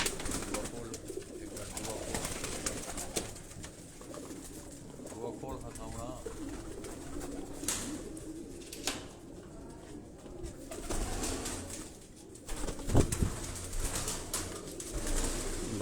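Pigeons from an Ustad's rooftop flock in Karachi coo softly amid outdoor ambience, with occasional wing flutters and someone talking over them.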